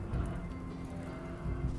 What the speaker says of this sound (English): Luckily, it's a rainy thunderstorm this time.